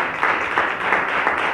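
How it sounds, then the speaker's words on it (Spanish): An audience gives sustained, steady applause at a nativity scene and Christmas tree contest event, a brief, loud and even wash of clapping heard on its own. "le queremos dar este fuerte aplauso también a ellos"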